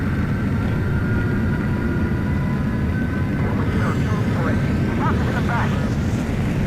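Loud continuous jet engine roar from a fighter aircraft taking off in Ace Combat 7, a steady broadband rush with whining tones rising near the end.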